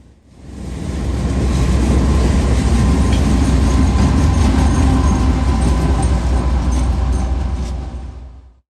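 Freight train passing at Barnett Road in Southwest Ohio, a loud close rumble of engine and rolling cars with clickety-clack, rising in and fading out at the end.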